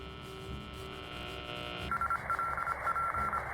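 Electronic radio tuning tones from the Highfleet video game beep in short repeated pulses over a low steady hum, clear and close, with no voices.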